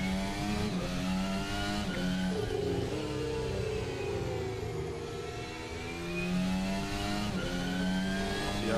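A Formula 1 race car engine screams at high revs, the pitch dipping as it slows into a corner, then climbing again as it accelerates out, loud and close with a steady whine throughout.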